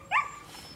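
A husky gives a single sharp, high yip or whimpering bark close by, quick and bright, then fades into quiet outdoor background.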